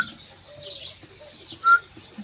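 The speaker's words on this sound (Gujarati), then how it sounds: "કબૂતરો ખવડાવવાની કોશિશ કરી રહી છે," Pigeons being fed grain give faint, sparse coos and a brief higher call in a quiet setting.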